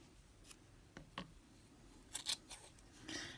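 Scissors snipping the edges of a yarn pom pom for a little girl's hat, a few quiet, close crisp cuts in short bursts with soft rustling between them.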